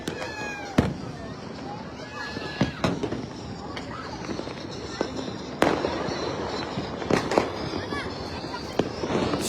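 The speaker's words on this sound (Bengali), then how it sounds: "আমার চারপাশে হচ্ছে ফানুস, আতশবাজি, তারপর হচ্ছে চকলেট বোম।" New Year fireworks and firecrackers burst in sharp, irregular bangs, some near and loud, others farther off, over a constant background crackle, with voices talking underneath.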